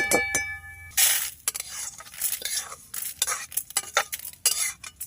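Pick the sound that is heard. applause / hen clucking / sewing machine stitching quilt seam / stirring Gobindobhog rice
stirring Gobindobhog rice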